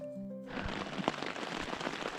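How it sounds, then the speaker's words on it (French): Steady rain patters densely on a tent at a campsite in Alberta, a continuous close hiss with scattered heavier drops, after a brief quieter moment at the start. "Il a commencé à pleuvoir."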